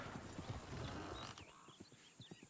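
Horse hooves clip-clop faintly in Red Dead Redemption 2, with soft, irregular steps under a background hum.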